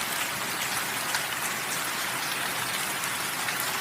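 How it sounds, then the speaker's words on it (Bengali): Heavy rain pours steadily over Kolkata, a dense, even hiss of falling water that stays loud and unbroken throughout with no voices. "খুব বৃষ্টি হচ্ছে আজকে কলকাতাতে"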